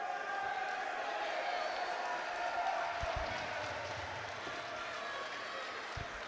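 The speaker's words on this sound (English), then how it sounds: "takes the applause of the home crowd" Distant crowd applause and murmur in a large hall at a boxing championship, a steady wash of clapping with a few thuds and a faint voice underneath.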